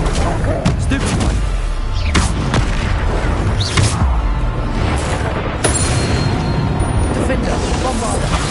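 Spell explosions and blasts in Hogwarts Legacy during combat, a dense, loud, continuous barrage of booms and impacts layered over one another with no pauses.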